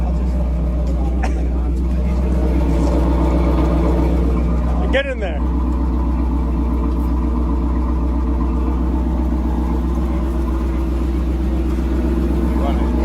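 A 5-speed IROC Camaro engine idles with a deep, steady exhaust rumble throughout, close and loud, while people speak briefly over it.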